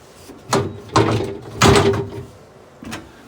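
A Fagor commercial dishwasher door is handled, giving four loud separate thuds and clunks spread over a few seconds, with no speech.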